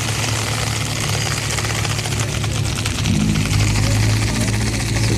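An EcoBoost Mustang races at a street night drag event at Orlando Speed World. Its loud, rumbling engine drone hums steadily and swells toward the end, mixed with heavy track ambience.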